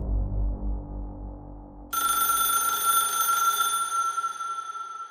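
An electronic telephone ringtone starts about two seconds in and trills loud and steady to the end, after a low rumbling hum.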